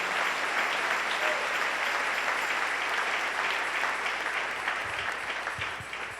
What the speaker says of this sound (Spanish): Dale un aplauso al Rey en esta hermosa y preciosa mañana